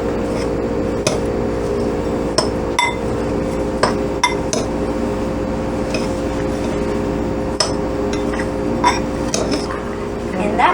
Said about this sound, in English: Now it's time to stir it up